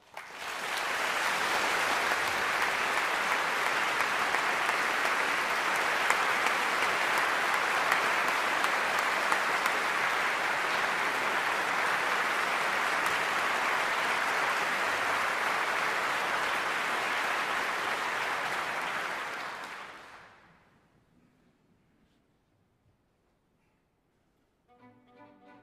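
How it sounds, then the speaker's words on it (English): Concert-hall audience at a singing competition final applauds after an opera aria, a broad sustained wash of clapping for about twenty seconds that fades out, followed by near silence. "But first, a big applause to Navasar Hakobyan."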